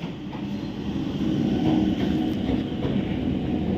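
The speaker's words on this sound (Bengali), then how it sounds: "ওই যে ট্রেন ঢুকছে, দেখো ট্রেন ঢুকে গেছে।" A local train pulls into Nalikul station, a steady low rumble of carriages and wheels rolling along the track, fairly close and continuous without speech.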